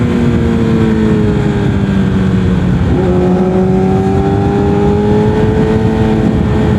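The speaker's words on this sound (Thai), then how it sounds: "เป็นรถที่รอบสูง มันก็ต้องลากรอบสิ" A Yamaha R6 sport motorcycle engine runs loud and high-revving on an open road trip, its sustained buzzing whine climbing and shifting pitch through the whole stretch without any talk.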